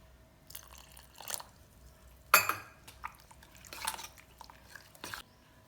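A spoon scrapes and clinks around a bowl, mixing green peas biryani ingredients in a few short stirring strokes, quiet and close with pauses between.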